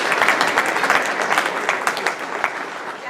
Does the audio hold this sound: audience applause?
yes